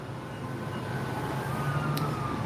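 Emergency vehicle sirens on a street, a faint wailing tone under steady traffic and outdoor rumble that continues throughout without speech.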